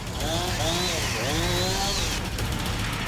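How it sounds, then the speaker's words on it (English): A chainsaw engine drones steadily throughout, close and loud, its pitch rising and falling as it revs through cuts into flying fruit, with excited voices and shouts over it. "Jamie's chainsaw was unbelievably effective."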